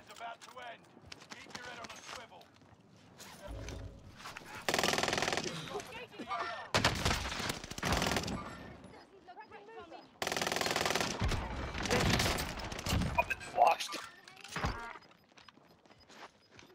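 Bursts of rapid gunfire in a Call of Duty Modern Warfare match, several loud sustained volleys and shorter shots spread across the stretch, with a player talking at times between them.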